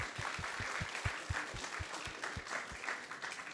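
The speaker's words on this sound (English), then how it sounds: "So let's give them a big round of applause as well." Audience applause after a spiritual discourse, a moderate, even patter of clapping from a gathered crowd, fairly distant with low thumps pulsing beneath it.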